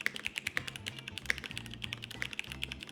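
Typing on a QK101 100% mechanical keyboard with a flex-cut aluminum plate, a quick run of close, muted keystrokes with a soft, slightly dampened thock and no talk.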